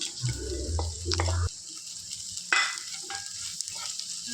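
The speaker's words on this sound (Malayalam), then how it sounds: "നമ്മൾ വറുത്ത് വെച്ചിരിക്കുന്ന ചെമ്മീൻ ഇതിനകത്തിലേക്ക് ചേർത്ത് കൊടുക്കണം" Fried prawns are tipped into a pan of masala for a prawn roast and stirred, giving a short burst of sizzling and scraping, then quieter spoon scrapes and soft kitchen clatter.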